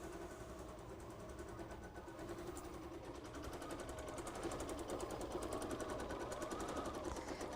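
Embroidery machine stitching a quilting design, a rapid, even mechanical chatter of needle strokes, close and quiet, running continuously and growing slightly louder.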